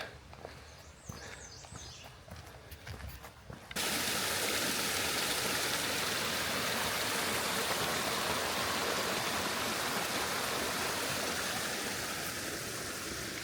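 Steady broadband rush of a small stream flowing through woods near an old mill canal on a hiking trail, loud and continuous after a brief quieter stretch of outdoor ambience at the start.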